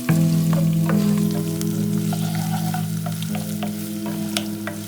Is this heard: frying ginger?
yes